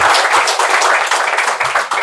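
Loud, close clapping from a group at a Diwali meditation gathering, a dense burst of rapid hand claps with slight rhythmic surges throughout, no voices over it.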